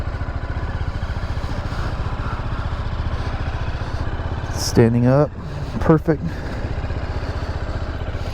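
A 2024 BMW G310GS motorcycle on a test ride in misty weather, its engine running steadily and close throughout with a rough, pulsing drone, while a person talks briefly over it partway through.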